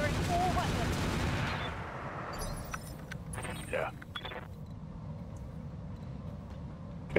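Mech weapons firing in Battletech (Roguetech mod) during a clan battle: a heavy roar of gunfire and blasts at first, then sharp rattling bursts and metallic clatter, with a final loud hit at the end.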